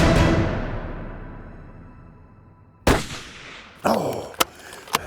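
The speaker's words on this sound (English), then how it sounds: "when that gun cracked" A hunting rifle fires an XP load at a buck outdoors: one loud crack rings out sharply and echoes away, and a few shorter, quieter bangs and knocks follow near the end.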